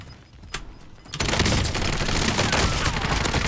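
Gunfire in a shooter video game with Groza and SPR rifles: a couple of sharp shots early, then a dense, loud sustained burst of rapid fire that fills the rest of the clip, with no talk.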